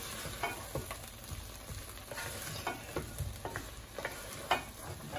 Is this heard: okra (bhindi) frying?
yes